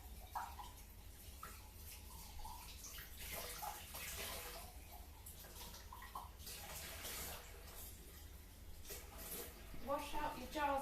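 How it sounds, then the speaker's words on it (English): Tap water runs while jars are rinsed out for recycling, a faint steady splashing stream with brief clinks, under a person talking. "Wash out your jars for recycling."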